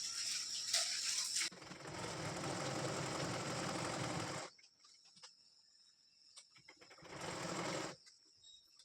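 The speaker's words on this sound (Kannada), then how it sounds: "ಅರ್ಧದಿಂದನೇ ಸ್ಟಿಚ್ ಮಾಡ್ಕೊತೀನಿ ನಾನು." A sewing machine stitches a double-folded cloth bag with a fast, whirring mechanical buzz in two bursts, the first longer, separated by a quiet pause and light handling noises.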